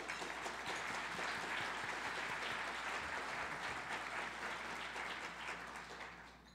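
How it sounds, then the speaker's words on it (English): A warm round of applause from a civic club's luncheon audience, dense steady clapping that holds for several seconds before tapering off slightly at the end. "Please join me in a warm round of applause for all of them."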